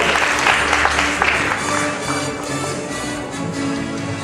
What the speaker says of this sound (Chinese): 我们再一次热情的掌声